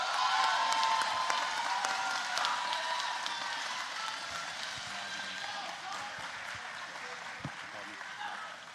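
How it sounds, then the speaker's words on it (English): A crowd at a middle school graduation ceremony applauds steadily, a dense wash of clapping that gradually fades a little toward the end. "Let's give another round of applause for our CEO Award recipients."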